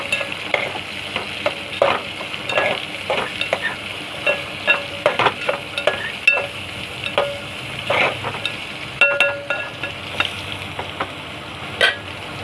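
Sliced radish sautéing in a pan for a Tamil-style radish stir-fry (mullangi poriyal), with a steady close sizzle broken by repeated scraping stirs of a spatula, no talking.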